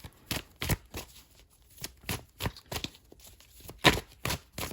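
Oracle cards are shuffled by hand in a series of quick, crisp riffles and slaps, close and fairly quiet, arriving in short irregular bursts.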